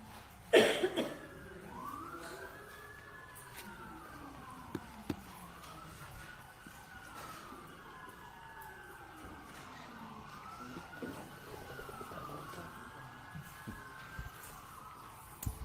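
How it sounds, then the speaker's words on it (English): Emergency sirens wail and sweep up and down continuously, fairly distant and steady, with a sharp knock near the start and low traffic rumble beneath. "I'll let the sirens go by."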